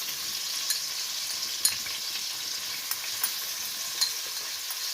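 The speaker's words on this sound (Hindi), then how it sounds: "अब मैं इसको इस तरह से अदरक लहसुन के पेस्ट में इसको सौते करूँगी" Steady sizzling of ginger garlic paste sautéing in a pan, with occasional scrapes and clicks from stirring, close and continuous.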